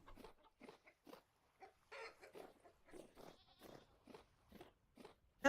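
Goats in the Vintage Story video game bleat in a quick series of short, separate cries, some overlapping, fairly quiet and alone with no talking.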